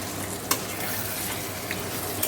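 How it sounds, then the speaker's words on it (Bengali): Meat added to a spice paste frying in a pan, giving a continuous sizzle with occasional clinks and scrapes as it is stirred; close and fairly steady, without talk. "দেখো মশলাটা ভালো করে কষে মাংসটা দিয়ে দিয়েছি"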